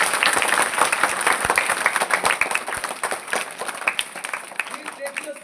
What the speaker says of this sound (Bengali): ঘুমিয়ে পড়লে হবে না, জোরে হাততালি